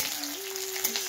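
Onions sizzling and frying in a hot pan with bay leaf, a steady crackling hiss throughout with a faint tonal hum underneath.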